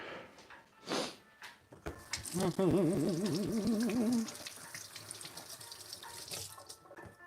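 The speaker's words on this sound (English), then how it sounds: "Give it a quick rinse" Water runs from a sink tap as a pepper is rinsed under it, a close, steady splashing gush that swells briefly in the middle and then settles into a softer flow.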